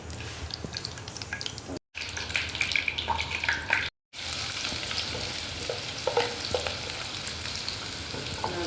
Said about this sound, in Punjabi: ਪਿਆਜ਼ ਨੂੰ ਚੰਗੀ ਤਰ੍ਹਾਂ ਭੁੰਨ ਲਾਂਗੇ